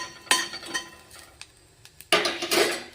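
Coriander and curry leaves are fried and stirred in a pan, with a spoon scraping in loud, uneven bursts and a faint sizzle between strokes.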